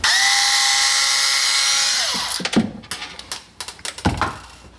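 A power drill whines steadily while backing out cabinet hinge screws in a kitchen, then winds down and gives way to a series of clunks and knocks as the hinge hardware is handled.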